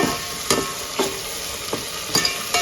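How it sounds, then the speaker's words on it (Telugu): Spices frying in a pan for tomato pulao: a continuous soft sizzle with a few stirring scrapes spaced about half a second apart. "మనం వేసుకున్న మసాలాలన్నీ బాగా వేయించుకోవాలా"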